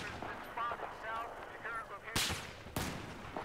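Gunfire in Battlefield 4, with scattered shots and bursts through the clip and two loud, sharp cracks near the end, mixed with game noise.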